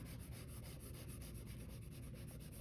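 A charcoal stick rubs across paper while a background is laid down in a teapot drawing, a soft, rhythmic scratchy rubbing in quick repeated strokes, faint and close.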